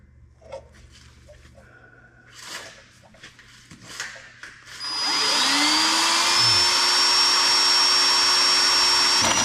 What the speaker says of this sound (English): I wanted to try out my new hole saw kit that I got for Christmas